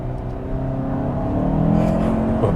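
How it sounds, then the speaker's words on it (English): A 2022 Hyundai Santa Fe 2.5T with a wet dual-clutch transmission accelerates in sport mode, its engine note rising steadily in pitch under road and cabin noise, with no speech. "this car will pick up speed really quick"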